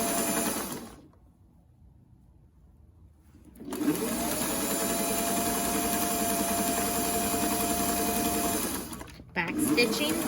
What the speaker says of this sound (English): We're gonna sew this seam at 1/4 inch, which is basically alongside of the edge of my serging.